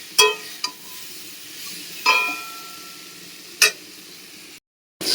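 Food stirred in a cooking pan gives several sharp metallic scrapes and clinks spaced a second or two apart over a soft sizzle, close by, then a brief cut to silence.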